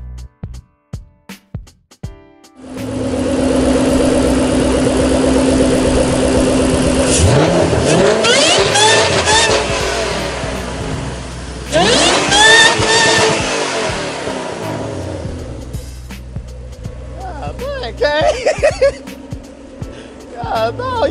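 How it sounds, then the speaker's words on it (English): A turbocharged Mazda Miata engine starts up and idles, then revs hard several times with rising and falling sweeps, loud and close, before settling as people talk over it. "he letting the car warm up. He gonna let y'all hear a little something in a little."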